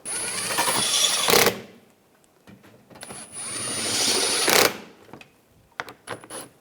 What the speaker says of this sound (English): get these screws in up front. Tighten them down.